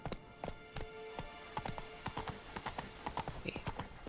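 Roach, Geralt's horse in The Witcher 3: Blood and Wine, trots in a steady clip-clop of hooves near and clear, with a brief whinny-like tone and faint game ambience beneath.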